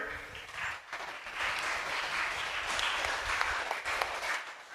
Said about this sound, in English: applaud them for participating